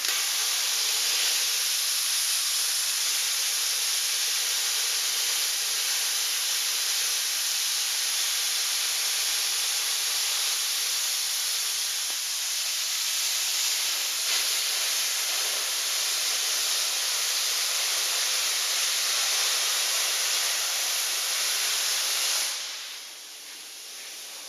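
Continuous loud, hissing roar of a cutting torch burning through steel for Jeep JK tube fenders, steady for a long stretch before easing slightly at the end.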